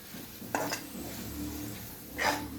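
Spiced potatoes being stirred in a pan, with a couple of sharp spoon-on-metal clinks over a soft sizzling scrape, close and moderately loud.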